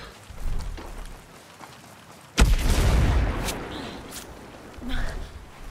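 A grenade blast in the shooter game Ghost Recon Breakpoint during a PvP match: one sudden loud boom midway, then a rolling rumble with scattered gunfire and fainter crashes after.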